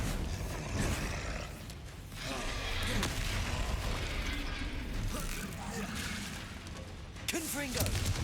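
Bombarda spell blasts from the game Hogwarts Legacy boom and crackle as dense, continuous explosive noise, with heavier bursts near the start and end under a speaking voice.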